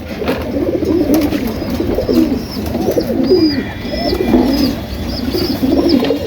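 Domestic pigeons coo repeatedly in a series of soft, rolling low calls, several birds overlapping close by, with faint higher chirps in the background and no speech.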